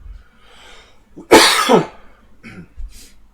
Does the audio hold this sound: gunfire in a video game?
no